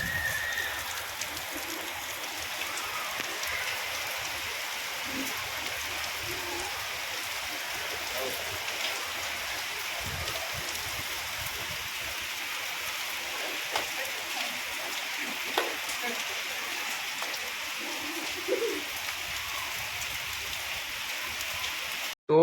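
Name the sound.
heavy rain falling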